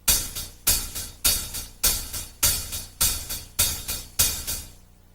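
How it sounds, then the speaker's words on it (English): A drum kit plays eighth notes with accents on the quarter notes. Loud accented hits alternate with softer ones between them in a steady pulse, heard alone with ringing cymbal wash throughout. "if you were to count eighth notes on that and accent the quarter note, it would sound like this."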